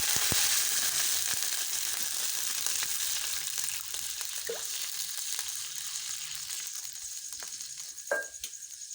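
Water poured into a pan of fried garlic sets off a loud, steady sizzle and crackle that eases slightly over several seconds, with a few sharp pops near the end.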